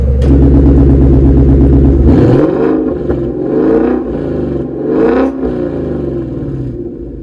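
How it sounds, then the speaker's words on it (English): A 2019 Ford Mustang GT's Coyote V8 with Corsa exhaust rumbles loudly, then revs rise and fall in several strong pulls, the burbling exhaust note close and steady throughout. "hear how good this exhaust sounds on this Coyote V8."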